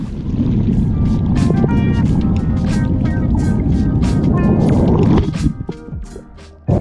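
A boat engine runs with a loud low rumble and rhythmic knocking, then cuts out abruptly near the end.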